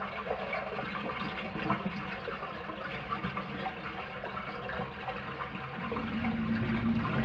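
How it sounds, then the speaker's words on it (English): Muddy water drains out of a bathtub in the original Resident Evil game's mansion, a steady watery gurgling rush that runs throughout and swells louder near the end. "Just go examine the tub and empty the muddy water out of the tub"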